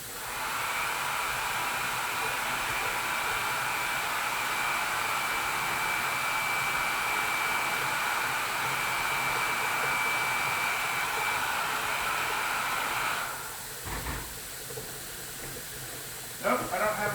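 A hand dryer blows in a steady, loud whoosh with a faint whine for about thirteen seconds, then cuts off, leaving brief clatters and room noise.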